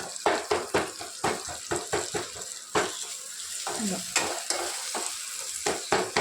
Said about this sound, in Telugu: ఇప్పుడు కొద్దిగా మ్యాష్ చేసుకోవాలి.